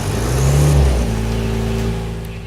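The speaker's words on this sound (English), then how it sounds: "Turn the ignition switch to the start position and hold until the engine starts." A compressor unit's engine runs loud and close, a steady droning rumble that shifts pitch slightly as it settles after starting.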